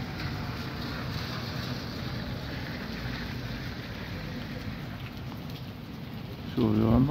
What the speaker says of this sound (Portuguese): Dia inteiro chovendo.